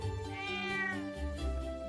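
A cat meows in the video game Trails of Cold Steel: one drawn-out, rising-then-falling cry heard close and clear over steady background game music, with no talking.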